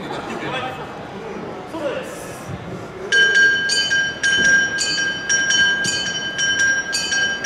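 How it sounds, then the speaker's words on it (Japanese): A kane, the small hand-struck metal gong used to lead Awa Odori festival dance music, rings bright and loud in a steady rapid beat against crowd noise outdoors at a festival. "鐘が全部の指揮を取っている指揮者ですね。"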